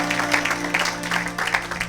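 A church congregation claps and cheers in praise during a sermon, dense close applause with voices mixed in throughout.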